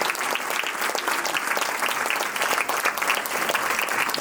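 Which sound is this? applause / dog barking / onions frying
applause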